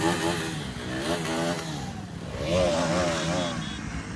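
A motorcycle engine, around a KTM Duke 250, revs as the throttle is opened, rising and falling twice nearby while people talk over it.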